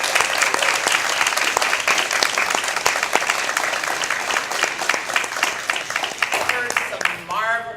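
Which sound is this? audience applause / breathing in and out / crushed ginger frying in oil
audience applause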